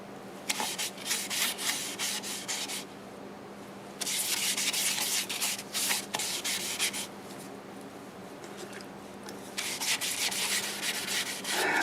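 Sanding sealer rubbed onto a spinning catalpa wood turning, giving three long bursts of loud, dry, hissing friction separated by quieter stretches with a low machine hum beneath.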